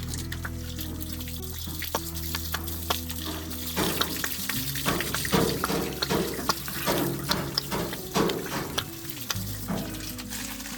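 Water spraying and splashing over a combine harvester during a wash-down, with a steady hiss and broken, irregular spatters throughout.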